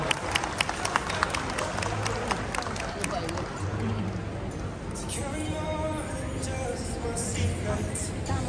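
Wedding guests applauding at the opening of a wedding reception: dense, steady clapping that runs throughout, with crowd murmur and voices underneath.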